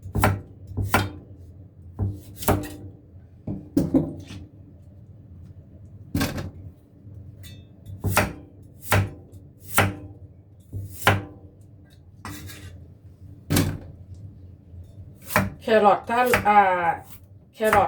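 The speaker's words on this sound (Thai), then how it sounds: "แล้วก็จะมาหั่น แครอท" A knife chops carrots sharply on a cutting board in irregular single strokes and short bursts, close by, with brief speech near the end.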